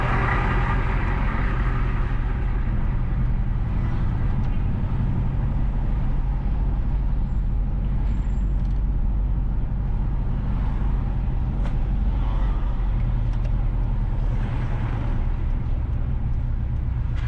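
Steady interior drone of a car driving south along Omara Road in Richmond Park, Kingston, Jamaica, with a constant low engine and road rumble and no speech.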